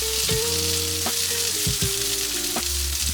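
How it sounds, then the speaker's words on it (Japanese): Eggplant sizzles in olive oil in a pan, a steady close hiss broken by several sharp knocks and scrapes from a utensil or pan moving, no voices. "まず、オリーブオイルを入れて、で、ナスを入れていきます"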